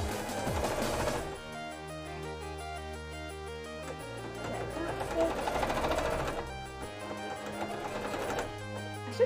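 Sewing machine stitching cosplay pieces runs in a steady, loud, fast mechanical whir with pulsing needle rhythm, pausing briefly and then starting again, with no voices.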